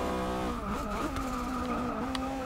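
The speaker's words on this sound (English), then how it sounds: "so you can enjoy also the sound of the car" A Japanese luxury car in the Forza 6 racing game roars under load, its engine note rising and shifting with gear changes while tires squeal briefly, loud and close throughout.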